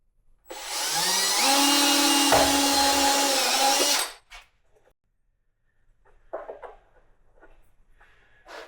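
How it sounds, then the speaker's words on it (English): A power drill whines loudly for about four seconds as it bores a hole in a Can-Am part during clutch bearing replacement, then stops, followed by a few faint clattering handling sounds. "Drill a hole right about yonder."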